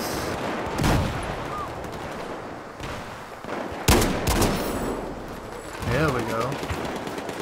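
QBS-09 shotgun shots ring out in Battlefield 4 combat, a few loud blasts spaced a couple of seconds apart with lingering rumble between them, alongside other gunfire and game effects.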